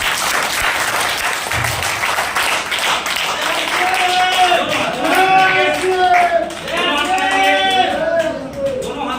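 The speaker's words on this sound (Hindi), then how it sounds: "एक बार फिर से दोनों हाथ को खड़ा करके ताली बजा देंगे जोरदार" A seminar audience claps loudly with both hands raised, a dense continuous wash of applause filling the room, with a voice talking over it and some whooping or cheering near the end.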